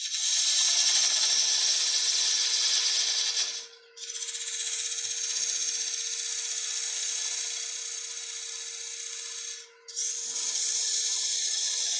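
A ring is turned on a woodworking lathe, the tool flattening its side against the head in a loud, steady high-pitched scraping hiss that runs continuously, broken by two brief pauses where the cut stops.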